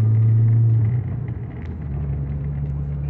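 A VW Golf engine hums low and steady from inside the car, its drone dipping as the driver shifts into third gear and then settling at a new pitch.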